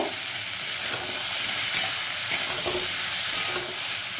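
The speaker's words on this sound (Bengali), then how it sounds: "এবার ঢাকাটা খুলে একবার নেড়ে নেব" Vegetables fry in a pan with a constant loud sizzle and hiss, broken by a few sharp scraping strokes as a spatula stirs them, with no talking.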